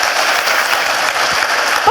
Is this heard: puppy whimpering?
no